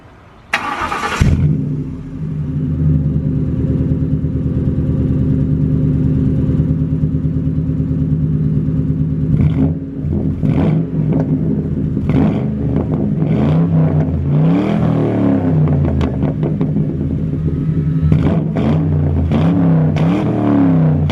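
A 2004 Crown Victoria V8 with cat delete and single-chamber FlowMaster exhaust cranks and fires up loudly, settles into a deep, rumbling idle, then takes several throaty revs close by.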